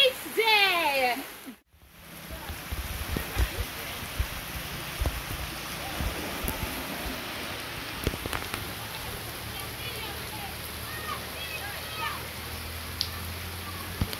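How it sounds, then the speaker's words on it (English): Rain falls at a beach as a steady, soft patter and hiss that fills the whole stretch, with scattered louder knocks and brief voices and squeals in the background. "So it's a rainy beach day."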